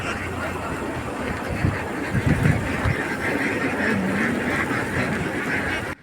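A large flock of farmed ducks quacks continuously across a wide paddy field in Palakkad, a dense, noisy chorus of overlapping calls, near and steady throughout.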